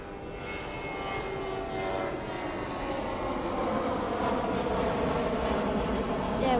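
A Jetstar airliner takes off from Adelaide Airport bound for Melbourne, a steady loud jet engine roar that builds gradually as the aircraft climbs out, heard from the ground with no talk.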